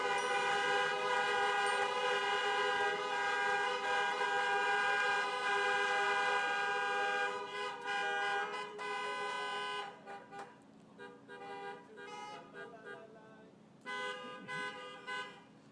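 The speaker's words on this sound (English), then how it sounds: "Let's have another big round of honking, I guess, for the class" Several car horns honk together at a graduation drive-by celebration, a sustained chorus of overlapping tones that thins out into scattered individual toots and a final burst.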